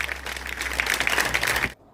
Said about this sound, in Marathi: मेत्रे सरांसाठी एक जोडा टाळ्या वाजवल्या पाहिजे